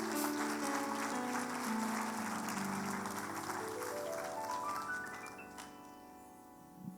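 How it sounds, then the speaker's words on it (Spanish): Church congregation applauding together through most of the stretch while sustained organ or keyboard chords play underneath, the clapping thinning out toward the end. "Dale un aplauso al Señor."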